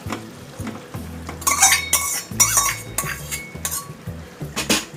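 Pre-fried chicken pieces added to cooked-down masala in a pan for Kashmiri chicken masala, with loud close clinks and scrapes of a metal spoon against the pan repeating irregularly over low sizzling.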